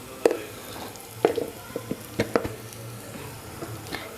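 Onions, green chillies and ginger garlic paste fry in a pan, with a low sizzle under a series of sharp spatula clicks and scrapes that come in irregular bursts.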